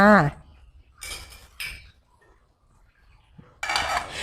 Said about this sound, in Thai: เดี๋ยวเราจะปิดฝาหม้อไว้นะคะ